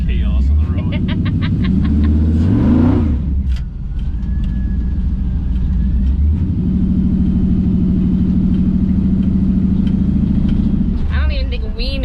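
An LS-swapped 1957 Chevy roars through burnouts on a public road, its V8 rising in a sharp rev before settling into a loud, continuous throaty drone close by.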